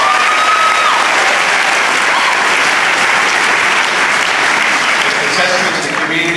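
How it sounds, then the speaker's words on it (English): At a film festival screening, a large audience gives loud, continuous applause for a film crew, the dense clapping holding at a constant level for the whole stretch and easing only slightly at the end. "Let's give them a round of applause."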